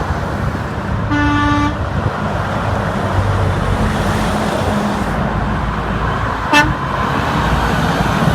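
A Peterbilt truck on the I-10 highway gives a loud horn blast of about half a second over steady roaring traffic, followed later by a brief, sharper toot as vehicles rush past.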